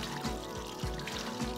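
Water being poured from close by into a homemade closet-cleaning compound, about 1.5 litres in all, a steady splashing stream with a few gurgling surges and no talk.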